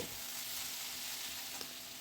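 Chopped onion greens with salt and turmeric frying in a pan while being stirred, a soft, steady sizzle throughout with a faint scrape of stirring, no voices.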